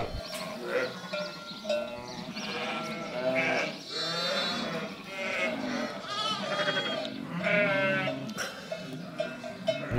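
A flock of sheep bleats repeatedly on a farm field, several overlapping wavering calls from near and farther animals, moderately loud and continuous with no talk.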